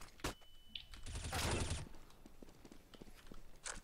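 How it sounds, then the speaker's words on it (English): A flashbang grenade goes off in a tactical shooter match, a loud burst of noise in the middle preceded by sharp clicks and a thin ringing tone, followed by scattered footsteps and faint clatter from the game. "Deploying flashbang."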